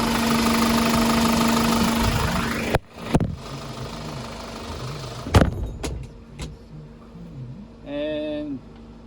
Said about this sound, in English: Engine sound is very smooth.